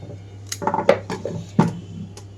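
A kitchen knife chops peeled carrots into small pieces on a board, a handful of sharp, irregular taps close by with quiet pauses between them.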